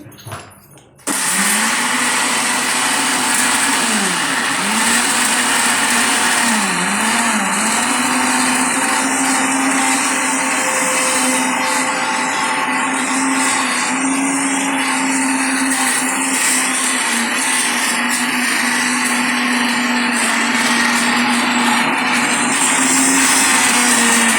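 A kitchen mixer grinder whirs steadily at high speed for the whole stretch, its motor pitch dipping and wavering slightly as the food inside churns and blends, starting abruptly after a brief clatter.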